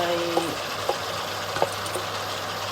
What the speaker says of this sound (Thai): จากนั้นก็ใส่ผักลงไปเลยค่ะ หัวหอม